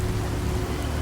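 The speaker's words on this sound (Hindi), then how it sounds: "रीमा कुछ ही कदमों की दूरी पर खड़ी थी और बारिश में भीग रही थी।" Steady, dense rain pours down with a constant hiss, close and fairly loud.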